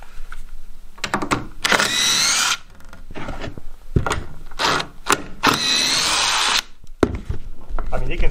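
A power drill unscrews screws from a temporary wall in a 45-year-old house under renovation, in repeated bursts of high whirring up close, with short pauses and some handling noise in between.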